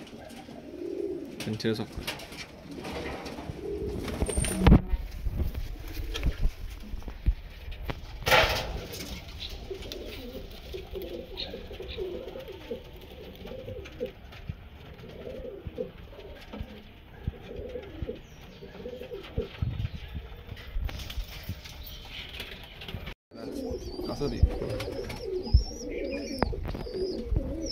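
A pair of Kasuri pigeons coos in soft, repeated low calls close by, with occasional rustling and bumps and someone talking over parts of it.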